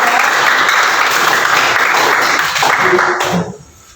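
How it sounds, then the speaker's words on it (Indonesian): A class applauding after a physics lesson on electric current in lamps: loud, close clapping from many students that holds steady, then fades out quickly near the end. "ya beri tepuk tangan"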